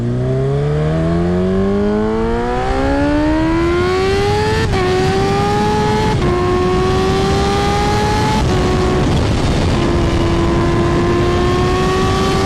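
A motorbike accelerates hard at full throttle, the engine note climbing steadily, then stepping through several gear changes, loud and close throughout.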